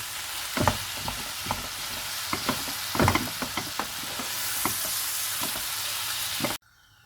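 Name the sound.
chicken keema cooking in a vessel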